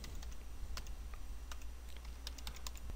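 Brief, light tapping on a computer keyboard, with scattered individual keystrokes at an irregular pace, close and fairly quiet and without any speech.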